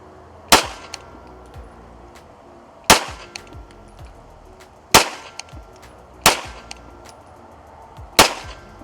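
Handgun shots fired at an outdoor shooting range during a practice drill: five sharp, loud reports spaced unevenly about one to two seconds apart, each with a brief ringing decay and no talking.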